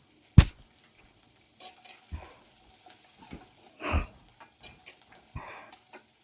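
Chopped onion and green chillies fry in a pan for shevaya upma as a spoon stirs them, giving scattered scrapes and clinks over a faint, intermittent sizzle.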